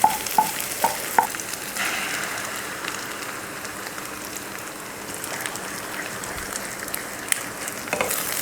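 Mutton and egg stir-frying in hot oil for a Tamil mutton mutta varuval, a steady close sizzle and crackle with a few light clicks of a utensil near the start, no talking.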